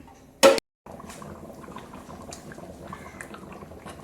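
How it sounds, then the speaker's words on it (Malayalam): A lid clanks down on a pot of fish head curry, followed by a short silence and then soft, continuous bubbling as it simmers covered. "അപ്പോൾ ഇത് നമുക്ക് മൂടി വയ്ക്കാം നന്നായിട്ടിരുന്നത് തിളച്ച് വെന്ത് വരട്ടെ"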